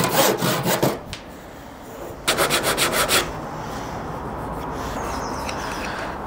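A hand saw cuts timber against a block guide clamped on the cut line, heard in two close bursts of rapid rasping strokes, each about a second long, separated by quiet, with faint birdsong in the background.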